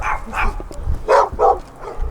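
A dog in a Detroit house barks in a few sharp, loud, close bursts with short gaps, mixed with yips and a whimpering edge.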